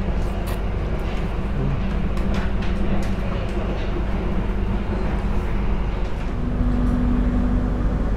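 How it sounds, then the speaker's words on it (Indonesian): Steady rumble and rattle inside a moving Argo Bromo Anggrek luxury-class passenger train in Indonesia, with low rolling drone, faint clicks and a brief tonal whine near the end, continuous and close. "perjalanan kereta api Argo Bromo Anggrek yang saya naiki sekarang sudah tiba di stasiun Bojonegoro"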